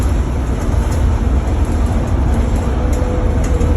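A 1997 Gillig Phantom diesel bus drives along with a steady low rumbling engine drone and road noise, loud and constant from the cabin, no talking.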